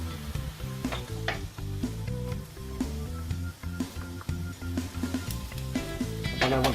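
A steak sizzles on a T-fal GC70 OptiGrill electric indoor grill, a steady close crackle and hiss with scattered pops, underneath tonal background music.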